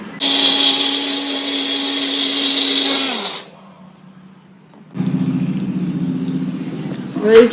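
A kitchen mixer grinder runs loudly, grinding chili, coriander, garlic, onion and lemon into a paste, then stops briefly and starts again with a lower, rougher whirr.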